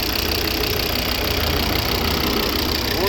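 A 2012 Volvo V70 AWD with the 2.4 D5 five-cylinder diesel and automatic gearbox idles steadily, a continuous close, loud diesel rumble with an even knocking clatter and no voices.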